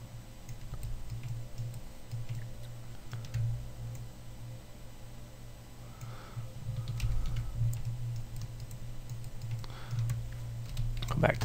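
Computer keyboard typing during 3D game-asset modeling work, a steady run of light key clicks through a low hum, close and moderately quiet, with no talk over it.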